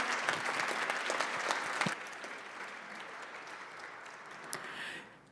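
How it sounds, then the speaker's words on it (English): Steady applause from an audience, fairly loud at first with a sharp clap near two seconds, then continuing slightly softer and thinning toward the end. "Can we give our panelists a round of applause?"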